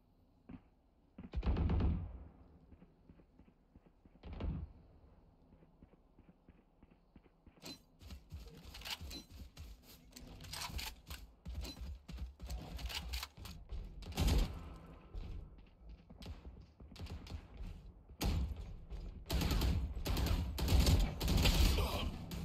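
Gunfire crackles in the shooter video game Valorant: two isolated shots, then a long stretch of rapid, sharp bursts and volleys, fairly loud and close, with little talk.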